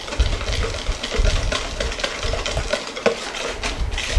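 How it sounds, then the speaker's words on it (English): Instant pudding mix is stirred vigorously in a bowl, producing a continuous close, dense scraping and swishing with rhythmic utensil strokes. "really stir this good so you don't have any powders"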